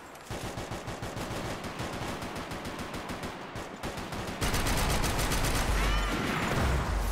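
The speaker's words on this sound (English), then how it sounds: "I got sniped just now" Rapid gunfire from Max Payne 3 multiplayer, a free-for-all team deathmatch, with steady automatic bursts that grow louder and denser partway through, thick continuous shots with no voices.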